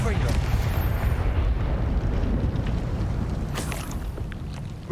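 Confringo fire spell from Hogwarts Legacy bursting in a loud, sustained roaring explosion with crackling debris, a dense rumble that slowly fades while speech is also present.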